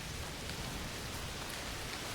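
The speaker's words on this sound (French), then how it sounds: "Il pleut très fort." Heavy rain pours steadily in A Plague Tale: Requiem, a dense, even hiss of downpour filling the whole stretch without pause, loud and close with no voices over it.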